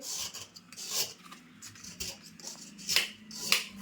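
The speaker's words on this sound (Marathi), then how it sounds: "मी आता गूळ किसून घेते आणि मग दाखवते किती टाकायचं ते." Jaggery grated by hand in a kitchen: soft, uneven rasping scrapes in short strokes, quiet and close, with brief pauses between bursts and no voices.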